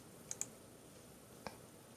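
A computer mouse gives a few faint, close clicks, two in quick succession and then a single one after a short gap, against a quiet room.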